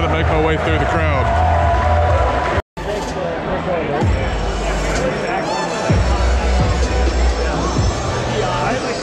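A dense crowd hubbub fills the Milwaukee Tools Pipeline event, a loud steady babble of many voices with footsteps and movement close by, broken by one brief dropout.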